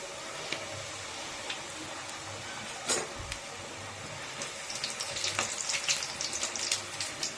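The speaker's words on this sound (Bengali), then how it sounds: "আস্তে আস্তে লাল লাল করে ভেজে নেবো পাপড়িগুলো।" Papri dough crisps dropped one at a time into hot oil in a wok, giving a steady soft sizzle and bubbling with a sharp crackle burst near the middle and busier spitting toward the end.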